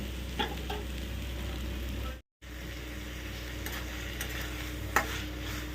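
Flat beans with sesame frying in a pan for a Rajasthani vegetable dish give a continuous close sizzle with spatula stirring and a few sharp clicks, broken by a brief silent gap midway.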